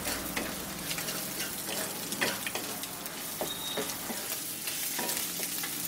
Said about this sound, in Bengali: পেঁয়াজটাকেও হালকা করে ভেজে নেব।